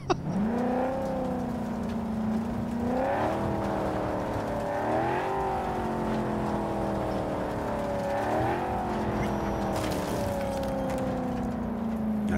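A car in the video game Cyberpunk 2077, a vehicle compared to a Golf, drives with a steady engine tone that climbs and shifts through repeated gear changes, loud and continuous throughout.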